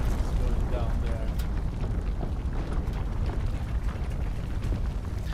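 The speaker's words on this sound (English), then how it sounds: "This is an incredibly long explosion." A long, rumbling explosion in the video game Planet Crafter rolls on steadily for several seconds, broad and noisy, with crackles scattered through it and no clear start or end.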